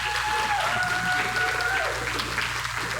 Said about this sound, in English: a round of applause for all of our parents and caretakers of these graduates